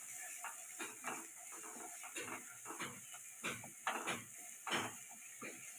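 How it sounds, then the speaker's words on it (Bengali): A spoon scrapes and stirs spices in a pan for a Bombay duck (lote fish) curry, giving soft, irregular scraping strokes over a faint steady sizzle, quiet and close. "সব মশলাগুলো খুব ভালো করে নেড়ে ছেড়ে নিচ্ছি।"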